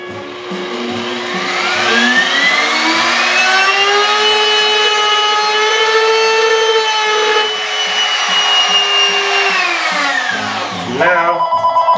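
A router cutting a binding channel into a guitar soundboard, with a test cut made on MDF, spins up into a loud, sustained high whine with a woody cutting rasp, then winds down after about ten seconds.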